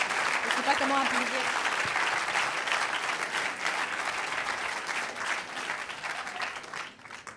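A crowd applauds steadily, with dense, continuous clapping from many people that holds for several seconds before tapering off near the end.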